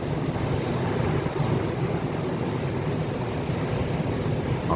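Sea waves wash continuously along a fishing shore, a loud, steady surf roar mixed with wind buffeting the microphone, with no voices.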